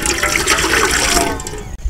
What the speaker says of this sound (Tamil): பச்சை தண்ணி ஊற்றிக்கலாம்.